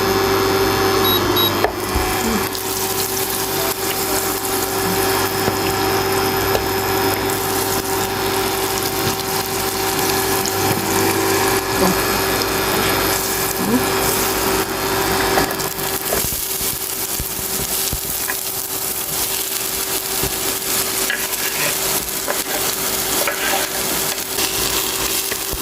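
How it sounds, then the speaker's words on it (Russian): Onions fry in a kazan for beshbarmak, a loud, dense, unbroken sizzle that runs steadily for the whole stretch, with a few faint knocks and scrapes. "Сейчас будем обжаривать лук."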